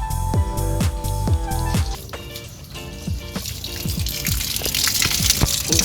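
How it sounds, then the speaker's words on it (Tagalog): Water gushes through a car's cowl area and splashes onto the wiring, with a busy, splashing pour and irregular metallic knocks, loud and close. "So, umaagos yung tubig sa wire."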